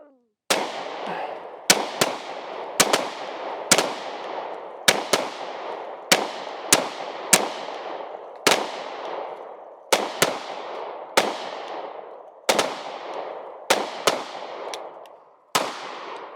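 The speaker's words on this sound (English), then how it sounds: "I'll just say threat and we'll just shoot." Sig Sauer P320 X-Compact and Subcompact pistols fire at targets in a string of about fifteen sharp, loud, close shots, spaced irregularly and each ringing briefly before the next.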